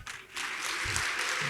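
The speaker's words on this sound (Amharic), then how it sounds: "ለጌታ ጭብጨባ አድርጉ" Congregation clapping at a church prayer service, a dense wash of applause that swells after a brief pause and carries on steadily, with faint voices underneath.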